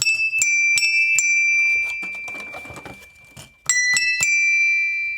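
Several children's handbells are struck together to sound a chord, with repeated bright ringing hits, a brief quieter stretch, then another run of close, loud strikes.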